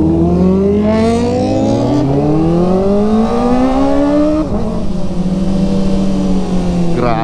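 A Kawasaki ZX4RR motorcycle with a slip-on muffler roars up close, its exhaust note rising and falling through loud revving, one sharp climb peaking and dropping midway, steady and continuous throughout.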